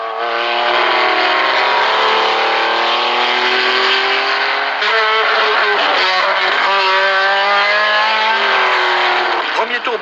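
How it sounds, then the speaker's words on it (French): Race cars at the 1975 Le Mans 24 Hours roar steadily and loudly throughout, their sustained engine drone rising and shifting as the pack of cars streams past, with a commentator talking over the noise. "Peloton déjà très étiré des 55 voitures, ou plutôt 53, car 2 concurrents sont restés immobilisés au départ"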